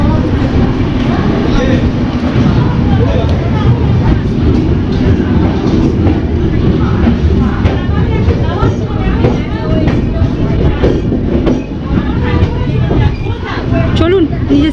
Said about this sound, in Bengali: ট্রেন কিন্তু বেরিয়ে গেছে 19-414 আদি এক্সপ্রেস